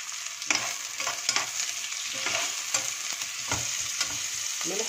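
Onions frying with salt in a pan, a steady bright sizzle with repeated stirring scrapes and clacks throughout, close and fairly loud.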